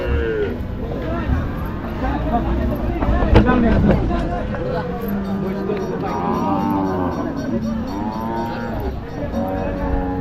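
Cattle at a rural livestock market mooing repeatedly, loud and close, with several drawn-out calls amid a crowd's murmur and people talking nearby.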